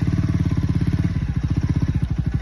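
A motorcycle engine chugs steadily at close range, a rapid rhythmic putter that holds constant throughout.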